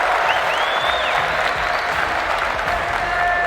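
A large esports crowd at the Rocket League World Championship applauds and cheers steadily and close up, a continuous wash of clapping and whistles for NRG.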